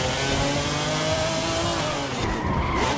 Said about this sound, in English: You can hear the wheel squealing.